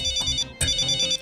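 A company-issued mobile phone rings with a tonal, chiming ringtone in two quick loud bursts, close by and clear over a low background murmur.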